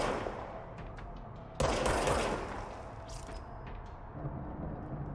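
A weapon firing in the action video game Control, a dense rattling burst of rapid shots that starts sharply and then trails off into a noisy, echoing wash of lower-level sound.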